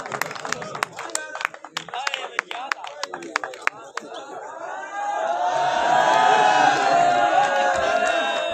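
A mushaira audience bursts into sustained applause welcoming poet Professor Asghar Shami, following a man's amplified introduction; the clapping swells into a dense, even roar over the last few seconds.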